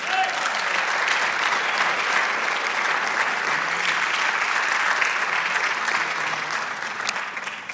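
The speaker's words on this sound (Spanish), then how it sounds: "Dele aplauso al Señor." Church congregation at a sermon applauding together, a dense sustained wash of many hands clapping at full strength that tapers slightly toward the end, with faint voices mixed in.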